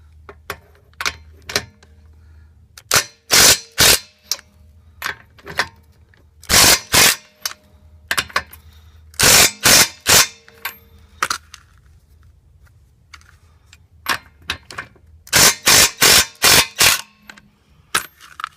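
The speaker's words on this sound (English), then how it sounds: "Now I'm going to use an impact gun because it'll be a lot faster to take them off." An impact gun zips off car wheel lug nuts during a tire change, firing loud staccato bursts of rapid hammering in several clusters separated by pauses, close up with faint background noise between.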